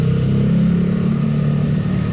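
Yamaha R15 motorcycle exhaust revving, a steady loud low engine drone with a throttle held open, close by and alone for about two seconds.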